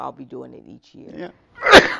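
A single sharp sneeze bursts out loudly right after a stretch of talking voices.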